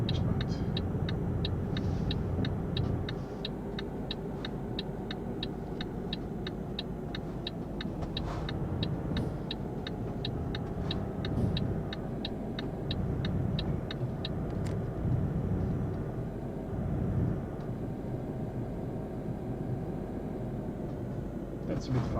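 Truck in Euro Truck Simulator 2 cruising the M7 motorway westbound in Hungary, a steady low engine drone and road rumble under a fast repeating ticking, with a few brief louder knocks.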